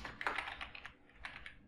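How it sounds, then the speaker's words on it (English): Keys clatter on a computer keyboard as a worksheet name is typed into Excel, a quick run of light, uneven clicks heard close and alone. "type in the sheet name"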